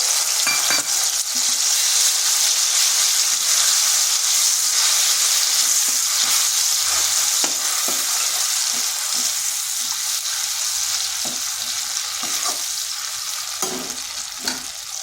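Tomato paste frying in a pan while being stirred, with a steady, loud sizzle broken by scraping stir strokes throughout. The sizzle eases off slightly near the end.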